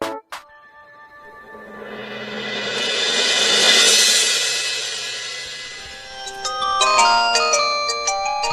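A phone's ringtone for an incoming call plays a melodic electronic tune that swells louder and then fades, ending in brighter chiming notes; no talk over it.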